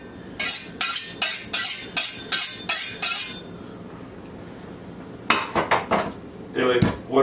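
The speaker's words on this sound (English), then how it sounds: "Chop some onions." A knife chopping onions on a board, a quick run of about ten sharp, evenly spaced chops, a pause, then a second burst of cuts.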